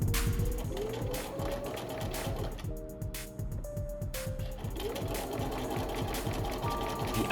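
Sewing machine stitching a T-shirt with two threads for a zigzag flatlock-style seam, running steadily and close with a continuous rapid mechanical chatter and whirr throughout.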